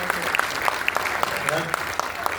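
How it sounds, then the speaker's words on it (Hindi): A crowd at a literary society's founding day event claps for the emblem, steady applause with a few louder individual claps standing out and faint voices underneath. "एक बार अच्छी तालियां प्रतीक चिन्ह के लिए बजा दीजिए।"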